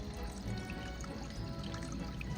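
Small waterfall at Spruce Flat Falls in the Smoky Mountains trickling steadily, a thin continuous splash and patter of water heard close and alone, with no talking.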